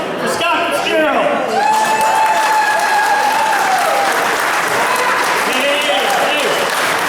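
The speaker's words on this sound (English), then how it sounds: "give a big round of applause for Scott Fitzgerald" Loud, sustained crowd applause at a November 2022 political rally greeting Scott Fitzgerald, dense steady clapping from a large audience mixed with cheers, whoops and shouted voices throughout.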